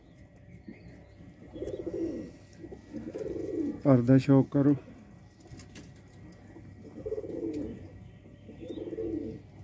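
Soft cooing from a young female chapdi pigeon in low repeated phrases, joined briefly by a louder burst of rhythmic bird calls mid-clip, with someone talking over it.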